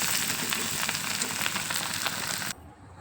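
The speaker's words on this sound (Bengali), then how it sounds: "তোমরা দেখতেই পাচ্ছ কত সুন্দর ভাজা হচ্ছে" Bitter gourd with fish roe frying in oil in a covered pan gives a steady, close, crackling sizzle that holds evenly and then drops suddenly to a faint hiss near the end.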